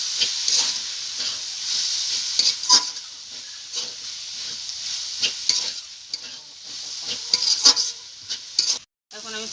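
Chopped tomato sizzles and fries in a hot pan while a utensil stirs it, scraping in repeated strokes over a constant loud hiss, then a sudden brief drop near the end.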